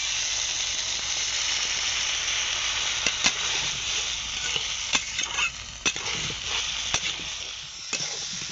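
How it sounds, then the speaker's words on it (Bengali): Vegetables frying in a pan with turmeric and chilli powder mixed in water, a loud, steady sizzle and hiss with periodic stirring scrapes and clicks of a utensil against the pan. "মশলার সঙ্গে সবজি ভালোভাবে কষিয়ে নিয়েছি"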